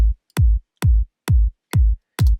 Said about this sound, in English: So together the two kicks sound like this